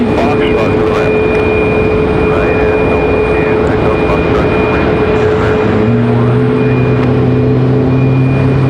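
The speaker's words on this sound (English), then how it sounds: "So you hear the Max engines firing there" Boeing 737 MAX jet engines at Raleigh-Durham airport make a steady, loud roar with a sustained whine. A lower engine tone rises and settles in near the end, and a faint voice can be heard underneath.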